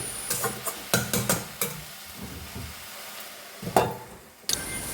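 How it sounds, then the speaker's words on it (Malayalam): A spoon stirs a ten-leaves curry in a pan, giving a cluster of quick scraping knocks, then a quieter pause and a few more strokes over a faint sizzle. "ഇളക്കാം വീണ്ടും ഇളക്കാം രണ്ട് മൂന്ന് വട്ടം ഇങ്ങനെ തുറന്ന് ഇളക്കി"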